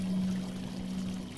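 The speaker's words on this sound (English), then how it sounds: "I think that is the sound of a fountain." Steady low splashing of a fountain in the video game Eldritch, a soft continuous trickle and pour heard at moderate distance, with no speech over it.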